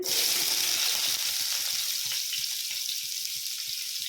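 Onions frying in hot oil in a home kitchen pan, a steady bright sizzle with faint stirring taps beneath it, close and even throughout with no talking.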